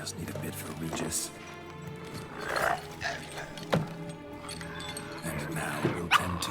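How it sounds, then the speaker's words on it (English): In the video game Witcher 3: Blood and Wine, a dog barks and whimpers in short yips over game music and ambient sounds at moderate volume, with a voice speaking at times. "Sound like a dog"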